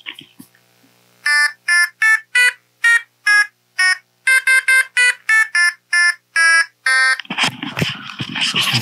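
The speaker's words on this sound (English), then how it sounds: "And now I can go beep, beep, beep." A PWM analog output driven by LabVIEW produces a run of about sixteen short, bright electronic beeps in a slightly uneven rhythm, loud and close with no talk, before breaking into a burst of noisy rustling at the end.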